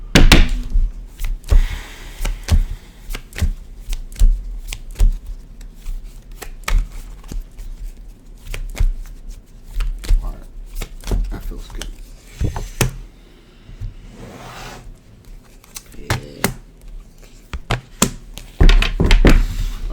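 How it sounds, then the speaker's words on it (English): Tarot cards being shuffled by hand, with irregular soft thunks and riffling bursts spread across the whole stretch, close and moderately loud with no talking. "One more shuffle."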